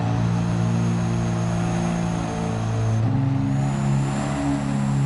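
A Mercedes-Benz Unimog with massive tires drones under steady throttle in Gran Turismo 7, its engine tone holding then stepping up after a gear shift, loud and continuous.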